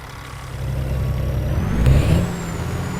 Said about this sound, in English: this is the W900 Kenworth W900L Highway Killer from John Ruda.